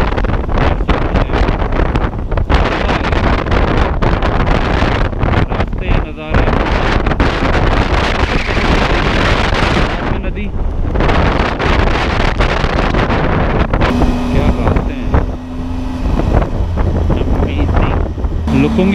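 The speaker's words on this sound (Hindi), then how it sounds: "विंड ब्लास्ट यहाँ पे काफ़ी तेज़ है, लिटरली बाइक को हिला देता है।" Strong wind roars loudly and continuously over a motorbike rider's microphone at a windy viewpoint, a dense buffeting rush with brief dips, a voice speaking under it at times.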